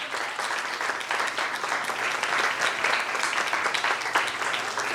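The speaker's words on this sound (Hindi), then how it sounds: "जोरदार तालियां बेटी के लिए।" Loud, continuous applause from an audience at a children's prize-giving on Resurrection Day, clapping for a girl who helps as an assistant teacher, steady and dense throughout.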